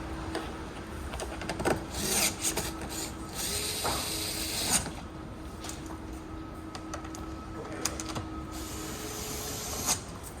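Screws being retightened on an electric frunk installed in a 2024+ Tesla Model 3 Highland make small ratcheting, clicking mechanical sounds over a low steady hum, close by, with no one talking.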